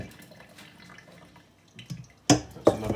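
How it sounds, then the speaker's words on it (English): Water spooned into short crust dough for a cheese and ham quiche, heard as a few soft drips and wet splashes and then two sharper close slaps as the dough is worked, in an otherwise quiet kitchen. "That's another tablespoon of water in there."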